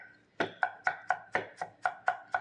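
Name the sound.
chopping water chestnuts on a chopping board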